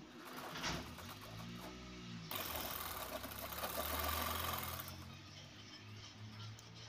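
A sewing machine stitching a handbag, running in a steady mechanical whir that rises in the middle and then eases, close and fairly quiet, with faint rhythmic knocking underneath.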